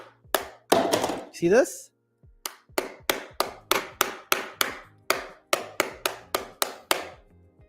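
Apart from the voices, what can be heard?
hammer striking a hardware wallet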